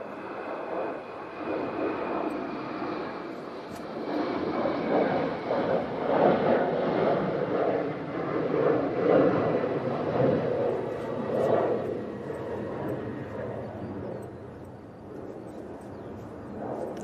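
An Emirates A380 climbs away on an extended departure after a go-around, its engines a distant rumbling roar that swells through the middle and fades, with some wind buffeting and a voice now and then.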